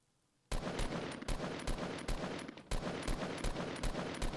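Rapid gunfire from Fortnite battle royale combat on PlayStation 4, peppering a building in loud, dense bursts of shots with brief gaps, starting abruptly after a moment of quiet.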